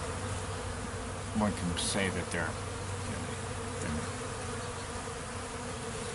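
Honeybees swarm around a beekeeper at their colony, a dense, steady, close buzzing drone throughout, with a brief spoken voice over it.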